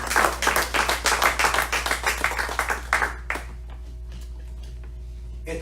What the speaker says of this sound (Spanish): Dele palmas al Señor, hermano.